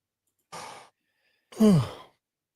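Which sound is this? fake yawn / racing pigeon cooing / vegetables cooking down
fake yawn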